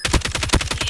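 Gunfire in the mobile shooter Call of Duty Mobile, a fast rattling string of close, loud shots repeating steadily through one second.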